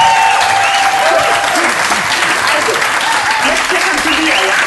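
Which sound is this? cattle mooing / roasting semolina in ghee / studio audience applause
studio audience applause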